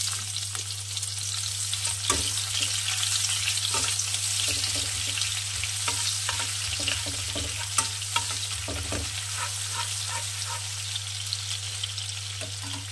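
Finely chopped onion frying in oil with a dried chilli for an aar fish curry, a continuous close sizzle with occasional stirring clicks and scrapes, under a steady low hum, no talking.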